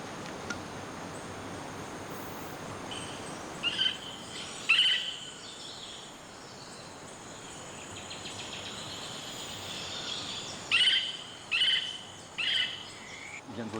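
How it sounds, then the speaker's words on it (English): A black-cheeked woodpecker calls in Costa Rican forest, a few short, faint bursts rising over a steady, dense buzz of insects. "I can hear a black-cheeked woodpecker, I think."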